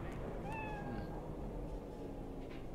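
A cat meows in the video game Cyberpunk 2077, a short, clear rising-and-falling call heard once over steady game ambience, followed by a faint second mew.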